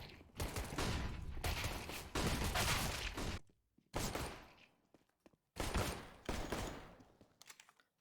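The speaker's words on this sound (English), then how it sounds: "These shots coming in are so precise" Gunfire in a competitive esports shooter match, with several loud bursts of rapid automatic fire separated by short pauses, some shots sharp and close, others trailing off.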